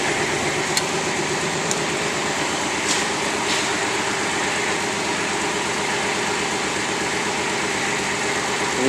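A Kubota KX41 diesel mini excavator idles nearby with a steady, loud engine drone and an even mechanical throb. Its hydraulics run underneath, with faint ticks, and no one speaks.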